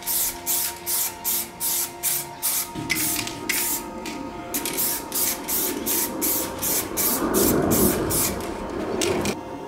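Spray paint hisses onto a part in short rhythmic bursts, first a series of quick pulses, then longer sprays, with mechanical background noise running beneath.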